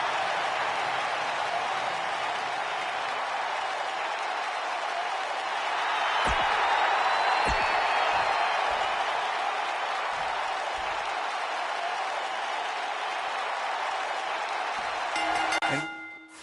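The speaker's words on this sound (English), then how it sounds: "Listen to this crowd, guys. They're fired up for this one." An arena crowd roars in WWE 2K19 before a women's division match, a broad steady wash of cheering and applause that swells briefly midway, with a few sharp thuds and a commentator talking over it.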